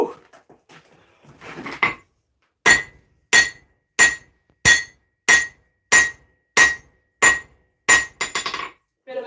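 Steady series of about ten sharp, ringing hammer blows forging out a small steel replica of the Zangetsu sword blade from Bleach, evenly spaced and close, after some quieter shuffling and handling.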